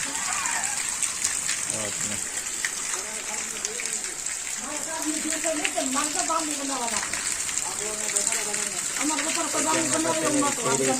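Steady rain pouring down outdoors, a dense hiss of water splashing on surfaces that runs continuously, with a person talking over it.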